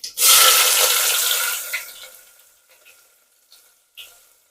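Sliced onion and three dried red chilies hit hot oil for tempering, an immediate loud sizzle that slowly fades over a couple of seconds, followed by a few light clinks of stirring.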